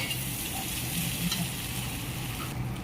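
Potatoes frying in a pan give a dense, even sizzle that holds steady and close throughout, with no voices.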